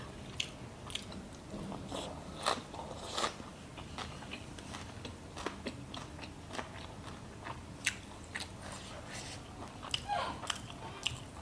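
Crunchy bites and chewing on grilled Isan sausage, a Thai fermented pork sausage, repeated in close, sharp bursts with no talk over it.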